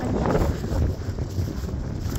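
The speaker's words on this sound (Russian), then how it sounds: "Только ветер очень-очень сильный." Very strong wind blowing through a snowy winter village, a steady roaring buffet against the microphone with gusting swells, loud and close, no voices.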